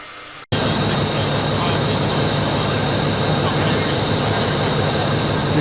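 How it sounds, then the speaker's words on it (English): A train in Burma rumbles steadily after an abrupt start, a loud continuous drone with a high whine carried through the whole stretch, no one speaking. "This is not our train."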